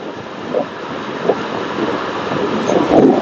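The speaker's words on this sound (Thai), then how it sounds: "ตอนนี้นะครับขี่ความเร็วหกสิบแล้ว เสียงลม เข้ามา อันนี้คือหมวกครึ่งใบนะครับ" Steady roaring wind noise from riding at 60 km/h, picked up by a BLAISE GT1 Bluetooth helmet headset mounted on a half helmet, a continuous broadband rush that swells slightly toward the end.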